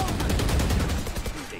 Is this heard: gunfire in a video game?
yes